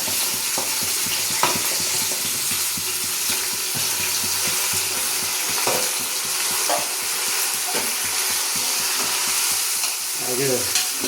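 Raw jackfruit pieces sizzle steadily in hot oil while being stirred, with scraping and knocking of the spoon in the pan recurring throughout; no one speaks.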